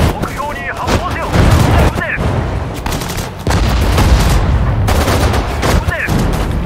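Gunfire and artillery bursts in the World War II strategy game Sudden Strike 4 during a Singapore battle, dense repeated shots and booms in clusters, loud and close, with brief voiced unit acknowledgments mixed in.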